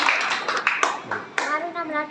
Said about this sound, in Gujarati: સર, જોરદાર તાળી સાથે આપણે સ્વાગત કરી